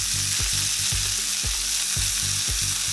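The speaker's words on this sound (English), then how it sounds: "we're going to go ahead and put our buns. Don't leave the buns on for too long" Burger buns sizzling on a hot grill, a loud continuous hiss with a rhythmic series of soft scraping pulses throughout.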